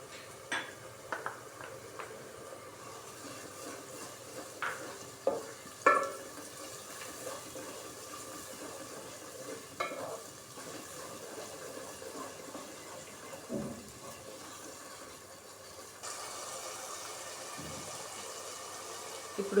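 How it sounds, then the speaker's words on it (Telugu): Ginger garlic paste fries in a pan for keema biryani, with soft sizzling under scattered clinks and scrapes of a spoon stirring against the metal, quiet and close. "ఇప్పుడు అల్లం వెల్లిపాయ పేస్ట్ వేస్తున్నాను."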